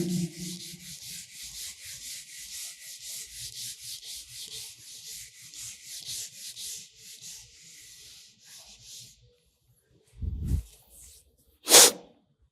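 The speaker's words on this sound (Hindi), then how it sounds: "इसको कर देते हैं प्यारे से डायग्राम को रब" A diagram is rubbed off a classroom board with steady, rhythmic scrubbing strokes for about nine seconds, followed by a couple of brief knocks and a sharp hiss, with no voices.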